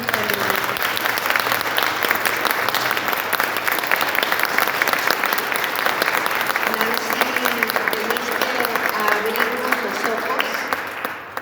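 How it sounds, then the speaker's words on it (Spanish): Warm audience applause at a book presentation, steady, full clapping from a sizable crowd lasting the whole stretch, with voices faintly audible beneath it before it tapers at the end. "A Nancy les pido un aplauso muy caluroso."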